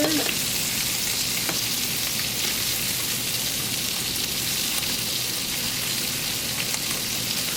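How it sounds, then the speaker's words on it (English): Sausage frying in a pan for red beans and rice, a dense, steady crackling sizzle like light rain, close and continuous throughout with no talk. "now I'm checking on my sausage because I don't want to burn on one side"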